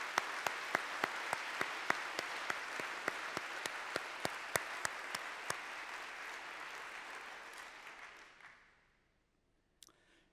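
Applause from a large assembly after a unanimous membership vote at an international astronomy general assembly, a dense roar of clapping punctuated by sharp periodic knocks, fading out toward the end before a brief clatter.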